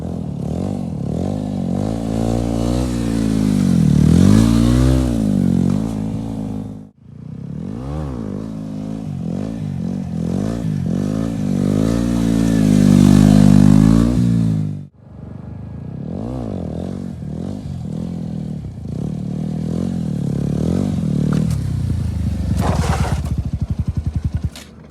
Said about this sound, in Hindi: तो पहले बाइक की प्रैक्टिस कर रहा हूँ कि स्लो चलाने की।